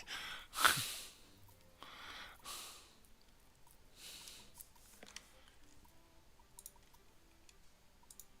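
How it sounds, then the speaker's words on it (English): A few soft, raspy snorting snores spaced a couple of seconds apart, fairly quiet, in an otherwise still room. "I had a cat behind my desk snoring."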